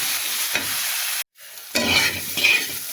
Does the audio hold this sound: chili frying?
yes